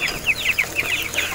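Farm-raised 45-day-old broiler chickens in a pen cluck in a busy, overlapping chorus of short, close calls over a low background hum.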